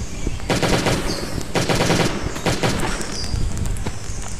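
Rapid bursts of gunfire from a gun in the Last Day on Earth: Survival video game, laboratory hard mode, loud repeated volleys with short gaps between them and no talking.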